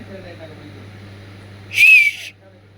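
A single loud, high-pitched whistle made by a person using the tongue, lasting about half a second, sharp and close, after a stretch of quiet background hum.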